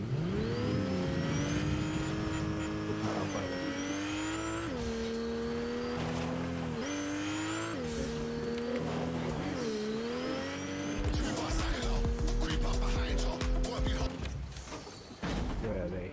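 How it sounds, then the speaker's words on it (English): A car driving in a Fortnite UEFN map, its engine whining steadily and rising and falling through gear shifts, with brief tire noise near the end and voices talking over it. "Now we're going to get the car, then we're going to jump in"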